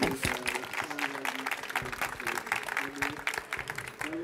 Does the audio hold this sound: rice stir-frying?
no